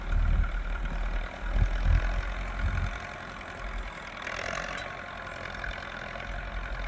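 A Zetor 6245 tractor engine labours at moderate distance during ploughing, a low heavy chug that is loudest early, then eases into a steadier, quieter drone.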